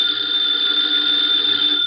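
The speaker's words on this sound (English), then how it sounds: "the ringing of that phone bell means mystery, adventure" An old-time radio show telephone bell rings as a sound effect, a loud continuous metallic trill held steadily, alone with no voices.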